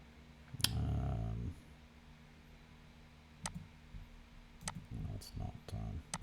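Computer mouse clicking while working in CAD software: a handful of faint, sharp clicks scattered singly and in quick pairs over a quiet room hum, with a brief low rumble near the start.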